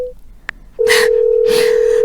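Telephone line tone during an unanswered call: a brief beep, then a steady continuous tone held to the end, with bursts of noisy sound layered over it twice.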